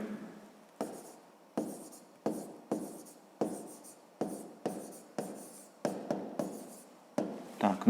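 Pen writing on paper in a fifth-grade maths lesson, quiet close strokes in short repeated bursts with brief pauses between, no talking.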